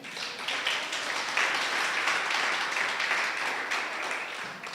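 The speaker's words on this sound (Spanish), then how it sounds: "Dale un aplauso al Señor." A church congregation breaks into sustained applause, many hands clapping in a dense, steady wash that stays loud throughout with no speech over it.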